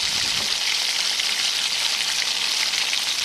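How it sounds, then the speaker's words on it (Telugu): Sliced onions with curry leaves and green chillies frying in a pan: a steady, close hiss and crackle of hot oil sizzling without a break. "తరువాత ఉల్లిపాయ ముక్కలు కూడా వేసుకుని అందులో ఉప్పు వేసి దోరగా వేయించుకోవాలి"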